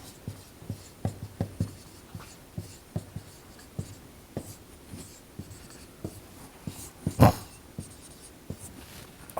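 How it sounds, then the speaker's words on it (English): A chalk or marker stroke pattern of quick taps and scratches as a chemistry lecturer writes out unit conversions on a board, irregular bursts at close range, with one louder knock midway and no talking. "I should write this out."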